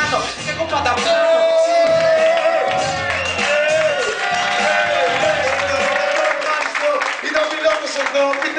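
A concert crowd at a hip-hop show applauds and cheers loudly and continuously, a dense wall of clapping and shouts with a voice and tones riding on top.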